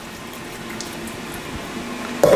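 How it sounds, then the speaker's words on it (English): Cool tap water runs over cooked pasta in a colander, a steady moderate rushing splash that continues evenly, ending with a brief louder clatter. "I'm going to hit it with some cool water to stop it from cooking briefly."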